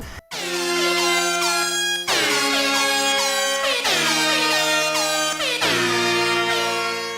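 Loud air horn blasts repeat in a rhythmic, musical pattern, four sustained bursts that form a remixed melody with a harmonic, blaring tone.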